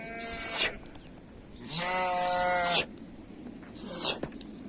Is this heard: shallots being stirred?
no